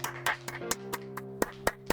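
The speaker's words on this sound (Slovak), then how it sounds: "Díky za potlesk." Clapping in the video game Gas Station Simulator, about nine distinct claps at an even pace over a steady humming tone, moderately loud and without talk.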